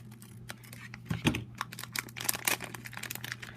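A plastic Kre-o Transformers Micro Changers blind bag is cut open with scissors, giving close crinkling and snipping clicks in an irregular patter over a steady low hum.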